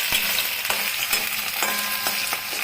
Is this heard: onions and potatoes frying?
yes